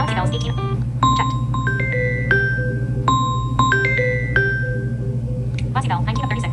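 Samsung Galaxy bells ringtone from a phone: a sequence of clear bell-like chime notes ringing out one after another at a steady pace over a low constant hum, loud and close.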